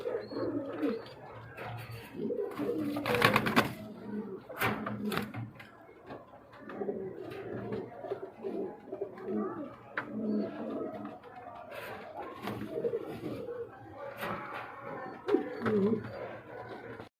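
A pair of red Sirazi pigeons coos repeatedly up close in soft, throaty bursts, with brief rustling and flapping between calls and no voices.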